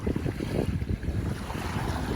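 Sea waves at Manila Bay wash against the shore, a continuous rough surf roar with heavy wind buffeting the microphone.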